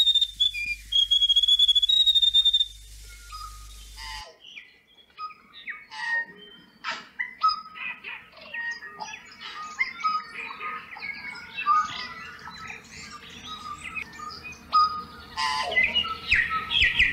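New Zealand native bird, a bellbird or tui, singing outdoors in regenerating bush, its clear whistled phrases and chirps repeating loudly over several seconds after a brief steady tone at the start.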